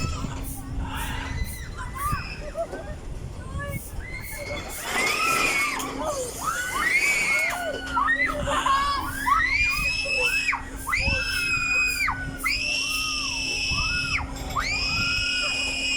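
Crowd of children and adults screaming and squealing at a seaside reclamation site on Manila Bay, with repeated shrill rising shrieks over a continuous busy crowd murmur and some talking.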